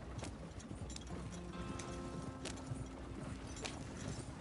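Hooves clip-clop steadily over quiet ambience as a horse walks in Red Dead Redemption II, a faint, even rhythm with no talking.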